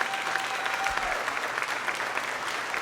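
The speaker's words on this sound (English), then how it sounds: "Would you all clap your hands once again?" Audience applause at the R.J. Bailey moving-up ceremony for the chorus and graduating class, a steady dense wash of clapping filling the whole stretch at moderate loudness with no talk over it.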